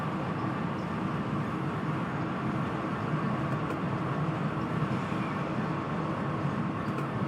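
Train driving the Trent Valley line from Nuneaton to Stafford in Train Simulator Classic: a steady, dense rumble of wheels and motor that holds constant and loud throughout with no talk.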